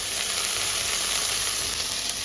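Shredded, squeezed cabbage for Kerala cabbage thoran lands in a hot pan with turmeric, onion and green chilli, giving a loud, steady sizzle and hiss that lasts throughout, close up, with no talking.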